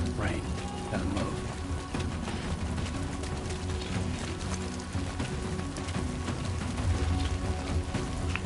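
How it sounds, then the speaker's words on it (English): Rain falls in the video game Death Stranding 2, a dense steady patter with mechanical clicks and rattles mixed in, continuous and fairly loud throughout. "There ain't no such thing as regular rain in this game."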